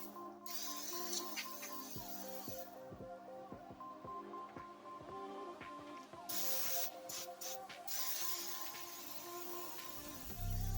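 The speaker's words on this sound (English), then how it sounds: "Spray this stock down." Short hissing bursts of a spray can coating a gun stock, several quick sprays in a row with pauses between, fairly close and quiet in a still room.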